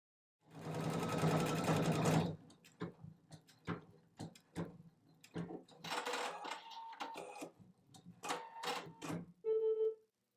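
An embroidery machine works on a design with a dense burst of rapid stitching followed by intermittent short pulses and clicks, then a final brief beep-like tone, fairly quiet and close.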